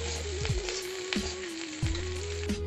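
Green chilies sizzling in hot mustard oil with onion in a pan while cooking spicy seviyan, a steady crackling fry with a few sharp pops, close and continuous under faint background tones.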